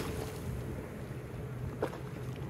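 Gentle Black Sea waves wash softly onto a beach in Adler on a calm day, a steady low rustle carried under light wind noise, with no talking.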